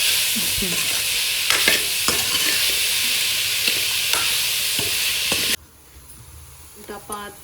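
Oil sizzles loudly and steadily with spices crackling and sharp pops, then cuts off abruptly to a quieter background with a few faint clicks.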